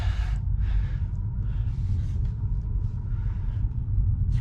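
A Tesla Model 3 rolls along the road, giving a steady low rumble of tyre and road noise inside the cabin with no break in level.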